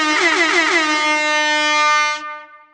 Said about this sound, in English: Air horn, air horn, air horn.